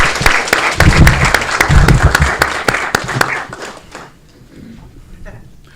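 Audience applause at the Aurora City Council meeting: a dense, steady burst of many hands clapping, loud and close, that fades out after about four seconds into quiet room tone.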